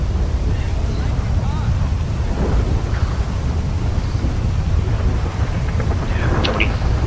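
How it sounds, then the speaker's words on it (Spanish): Night thunderstorm in GTA V: a loud, continuous rumble of thunder and rain with wind buffeting throughout, with faint voices in places. "Está en un hospital de noche con esta tormenta."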